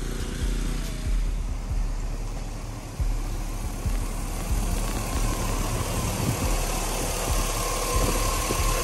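A car engine idles after being sprayed clean, a steady close rumble with a low throbbing pulse and light vibration that holds evenly throughout, with no voices over it.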